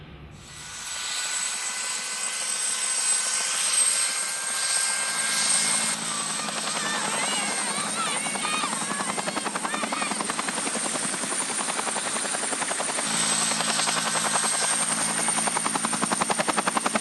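A heavy-lift helicopter flies steadily overhead with a loud, continuous rotor thrum and turbine whine, crewed by a pilot and two loadmasters on a construction project. The rotor beat thickens midway and holds steady to the end.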